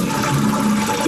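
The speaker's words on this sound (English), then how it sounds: "then you flush the toilet" A household toilet flushes, a steady broadband rush of water draining from the tank that holds an even, continuous level for about a second with no voices over it.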